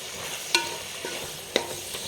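A spoon stirs chicken curry with roasted ground coconut paste in a pan, giving two sharp scraping clinks about a second apart over a soft, steady simmering sizzle, with no talk.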